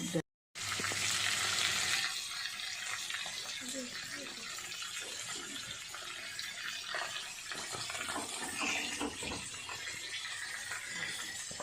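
Food frying in hot oil gives a steady, dense sizzling hiss that starts after a brief gap and runs evenly throughout.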